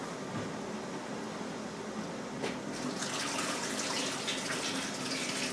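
About two liters of water runs and splashes steadily into a pot, a continuous gushing pour with no voices.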